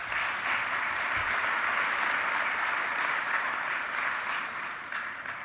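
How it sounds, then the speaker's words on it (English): Audience applause at a keynote event, a steady dense clapping that fills the room and holds loud throughout, easing slightly toward the end. "So please give them a round of applause."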